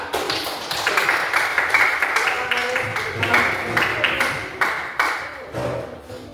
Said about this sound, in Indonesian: Mari kita undang kelompok 1 UKM Rafael dengan tepuk tangan yang paling meriah